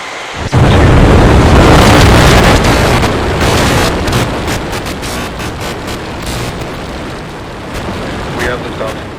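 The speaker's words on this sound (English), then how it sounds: "We have liftoff." SpaceX Starship rocket on its fourth flight test lifting off with a massive, sustained roar and crackling rumble, loud and close from the start, easing slightly as it climbs, with wind buffeting and a countdown voice faintly under it.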